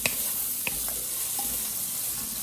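Butternut squash and mixed vegetables sauté in bacon fat in a Dutch oven pot, a continuous crackling sizzle with a few soft wooden-spoon scrapes and knocks close by.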